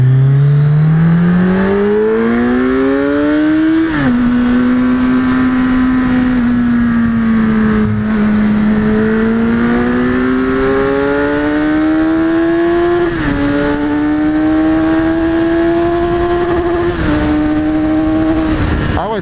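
A 2017 Kawasaki Z1000 with 142 horsepower pulls hard under acceleration, its loud engine note climbing steadily through several gears, with short dips at each shift, close and continuous for the whole stretch.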